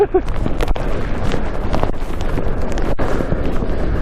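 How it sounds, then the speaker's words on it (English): Westerly wind blowing across the slopes of Great Dodd, a Lake District fell above Ullswater, buffeting close against the microphone in a continuous low rumble with gusty swells and a few sharp thumps. "The wind's coming from the west."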